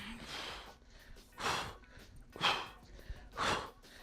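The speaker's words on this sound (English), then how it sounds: "you can listen to my breathing, because it's hard to breathe when your abs are constantly under tension" Heavy, forced breaths from someone doing bicycle cross crunches, four strained exhales about a second apart, each a breathy rush, close up over low room noise.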